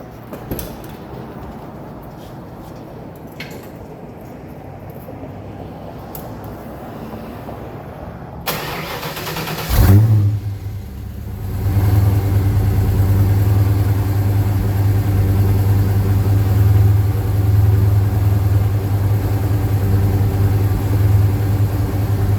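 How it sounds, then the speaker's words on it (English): A Fox Body Ford Mustang engine cranks from cold and catches around the midpoint, then settles into a steady, loud, low rumbling idle that continues to the end. "let's get an idle clip and a rev out of this thing"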